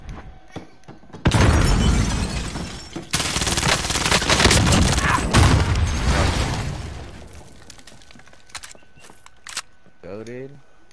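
A frag grenade blast and heavy sustained gunfire in the Warzone video game, a loud roaring burst lasting several seconds that fades into scattered shots and a short tonal radio-like sound at the end.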